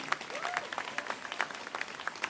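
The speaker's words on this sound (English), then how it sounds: "another round of applause" A convocation audience gives a round of applause, with scattered, fairly faint claps at a moderate distance and a voice briefly audible.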